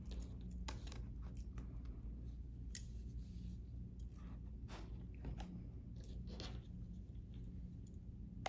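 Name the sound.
cutting a fabric strip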